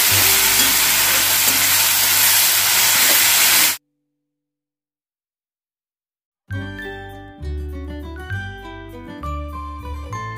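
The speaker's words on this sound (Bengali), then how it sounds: "দিয়ে ভালোভাবে এটা মিশিয়ে নিচ্ছি, ফ্রাই করে নিচ্ছি।" Tomato, ginger and garlic paste sizzles and fries in a pan, a loud dense hiss for several seconds, then a gap of silence, then renewed frying with clinks and scraping as the paste is mixed.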